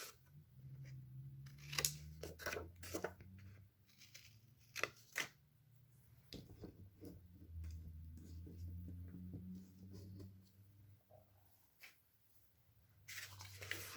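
Scissors cut through paper up to a score line for a handmade album, a run of crisp close snips and crunches in quick succession, then quieter paper handling and rustling with a few more cuts at the end.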